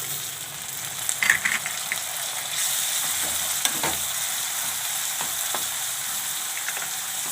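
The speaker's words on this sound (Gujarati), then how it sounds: "તો હવે આપણે એમાં ટમેટાં નાખી દેવું." Tomatoes go into a pan of reddened frying onions for a dal and spinach dish, and the sizzle swells into a brighter, louder hiss partway through, with occasional spoon knocks and stirring scrapes.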